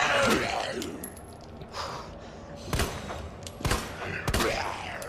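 Rapid gunfire from a handgun in the survival horror game Resident Evil 2, a burst of sharp shots at the start followed by several loud, spaced single cracks over a dark ambient background.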